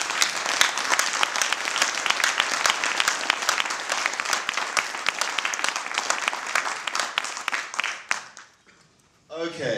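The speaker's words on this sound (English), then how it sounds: "I just wanted to do a quick round of applause for them" Dense round of applause from a conference audience at an open government data camp, steady and loud for about eight seconds before fading out, followed by a brief voice.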